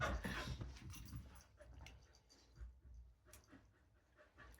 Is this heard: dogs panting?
yes